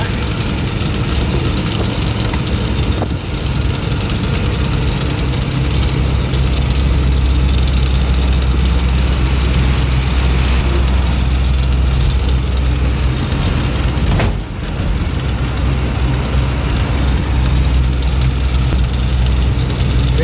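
A loaded vehicle's engine drones steadily while climbing a rough, potholed road in Tamil Nadu near a state border, a constant low rumble running throughout with a brief dip near the end.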